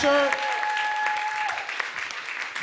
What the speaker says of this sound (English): clap it up for your servers